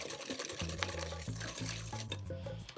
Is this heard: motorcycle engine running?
no